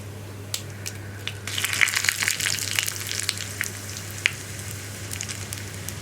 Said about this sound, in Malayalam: കടുക് ഒന്ന് പൊട്ടി വരട്ടെ